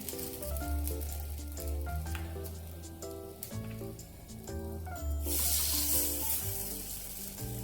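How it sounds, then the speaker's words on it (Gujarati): Soji appam batter sizzles steadily in a greased appam pan as the cavities fill, with a continuous frying hiss under background music and a brief louder surge of crackling near the end. "હવે આપણે બેટરને એડ કરવાનું છે, સરસ રીતે બધા ખાના ભરી દેવાના છે"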